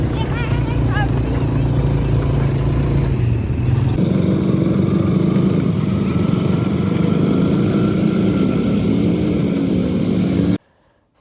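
An ATV engine drones loudly and steadily during a desert ride in the Dubai dunes, with the pitch shifting slightly as it revs, accompanied by wind noise, before cutting off abruptly at the end.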